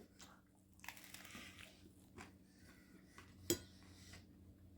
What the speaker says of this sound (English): I'm going to take a bite up here on the crust